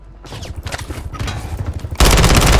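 Sharp rapid gunfire in a Fortune's Keep video game match, scattered shots amid chatter before a loud, dense sustained burst erupts close by and dominates the end.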